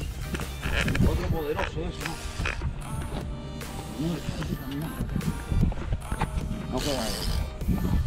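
The drag of a 1970s Olympus 530 spinning reel clicks and ratchets rapidly as a black drum pulls line while fishing at Crystal River, Florida, under steady talking.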